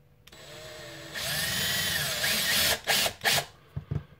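Drill boring through a brass breech for a Nerf Retaliator, a rising whine that holds steadily, then breaks into several short bursts as the bit cuts, close up.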